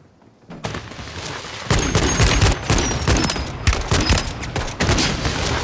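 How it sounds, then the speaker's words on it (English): Dense, continuous crackling bursts of fireworks going off, loud and close, with a sharper thicker volley starting partway through and continuing steadily to the end. "Shoot! Fireworks."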